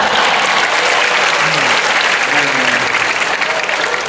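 Loud, continuous applause fills the room at a religious gathering for Nuzul al-Qur'an, thick and steady throughout, with a few faint voices briefly audible beneath the clapping.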